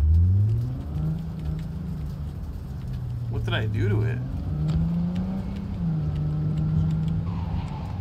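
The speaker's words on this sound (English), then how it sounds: "Oh, my car sounds rough." A car engine in the Cyberpunk video game runs rough, a low uneven hum that rises and dips over several seconds, with someone talking over it.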